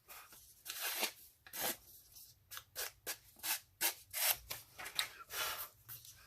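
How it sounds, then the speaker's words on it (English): Quiet, rhythmic rasping strokes of a sanding block smoothing the edges of wooden mini clipboards, repeated steadily at close range with no voices. "I'm just going to get the sanding block out again and just smooth those edges out"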